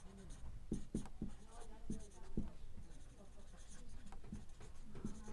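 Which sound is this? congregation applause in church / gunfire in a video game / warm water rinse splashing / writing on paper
writing on paper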